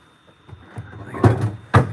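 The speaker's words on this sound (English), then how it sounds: "Drawer open for whatever reason." A closet drawer pulled open at close range, a quick series of wooden rumbles and scrapes that ends in two louder knocks, with no talking.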